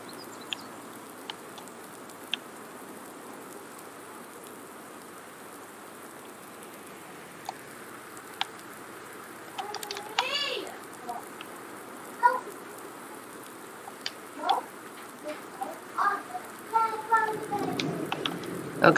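Steady soft rain patters in the background of a farming video game, a faint continuous hiss with occasional drips, while a person talks quietly over it.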